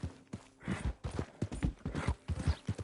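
Hooves of a horse in Red Dead Redemption 2 beat out a quick, uneven rhythm, moderately close with soft thuds, and no one speaks over them.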